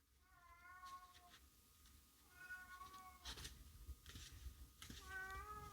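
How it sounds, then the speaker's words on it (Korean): An indoor cat meows three times in drawn-out, wavering cries spaced a couple of seconds apart, fairly faint against quiet room noise with occasional rustling. "고양이 우는 거에 대한 소리는 양해 좀 부탁드립니다."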